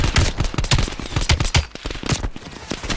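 Rapid bursts of gunfire from an old James Bond gun in Call of Duty: Black Ops Cold War, loud and close, firing in repeated clusters of shots with short gaps between them.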